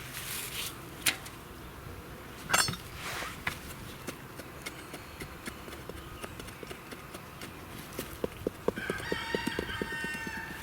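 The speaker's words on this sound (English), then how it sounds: "There's our chickens we're saving." Chickens cluck in the background amid scattered taps and knocks, and a rooster crows loudly near the end over steady ambient noise.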